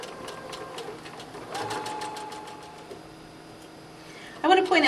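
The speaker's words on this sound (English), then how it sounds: "I'm using a straight stitch, and I'm just going to go right along this crease that we made here, all the way down" A sewing machine runs a straight stitch along a creased fabric edge while sewing a boutique pillowcase dress. It hums steadily with a rapid needle tick under a voice, then stops and gives a brief louder clatter.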